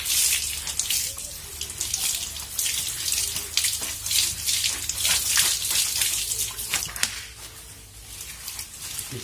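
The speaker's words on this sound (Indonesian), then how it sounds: "Cucinya kalau bisa kayak pakai air mengalir kayak gini." Produce being rinsed under a running tap, water streaming and splashing steadily and close by for the whole stretch, with no talk over it.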